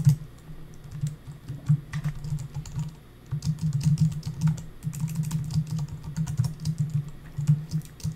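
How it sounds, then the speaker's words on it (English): Rapid typing on a computer keyboard, with dense clusters of clicky keystrokes that break off briefly for a pause before resuming at a fast, uneven pace, close and clear. "I'm typing to them"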